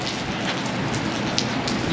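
Steady rain falls outdoors during a donut mile race event, a dense continuous hiss of drops striking surfaces with no talk over it.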